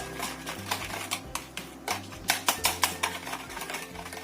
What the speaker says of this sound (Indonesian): Supaya kita jadikan adonan duluan itu gulanya supaya larut dulu ya. Kita aduk sampai rata pokoknya.